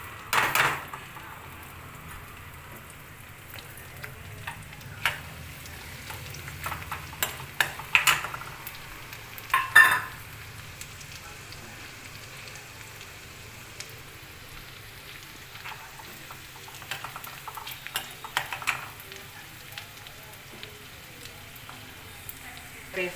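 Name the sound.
green chillies frying in oil for chicken curry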